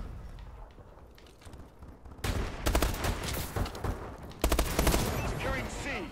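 Rapid video game gunfire in a multiplayer shooter, loud bursts of automatic shots in quick volleys after a quieter opening, with a player's voice occasionally over the action.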